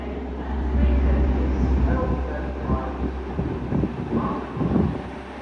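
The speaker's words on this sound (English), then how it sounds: "Departing now will be your 12:20 Transpennine Express service bound for Manchester Victoria" A TransPennine Express train bound for Manchester Victoria departs York station with a low rolling rumble and some wind buffeting. Faint voices or a station announcement sit under the train noise.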